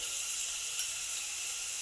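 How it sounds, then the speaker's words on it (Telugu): Onions frying in a pan for tomato dal, a steady bright sizzle and hiss heard close up and alone, with one brief sharper spit partway through. "ఆనియన్స్ అన్నవి కొంచెం సేపు ఫ్రై అయితే సరిపోతుంది"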